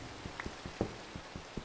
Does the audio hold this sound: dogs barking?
no